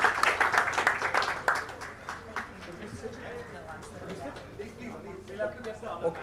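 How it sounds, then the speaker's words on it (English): Audience at a Google AI technology session clapping, a brief burst of applause loudest at the start then thinning out as people talk over it. "Another round of applause for us."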